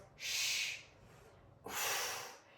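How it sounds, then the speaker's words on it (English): Two big, forceful breaths pushed out hard during a bicycle crunch workout, each a long breathy rush about half a second, separated by a short pause, close and loud. "If you're tired in your abs or your back right now and you don't want to do the squeeze in the middle, you can just simply do a normal bicycle."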